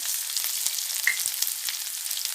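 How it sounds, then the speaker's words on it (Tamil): Garlic and onion frying with urad dal in hot oil for a tomato kadaiyal, a steady close sizzle with small crackles and pops throughout, no voices. "உளுத்தம்பருப்பு செவந்து வரும்போது பூண்டு பூண்டும் வெங்காயமும் போட்டுடலாம்"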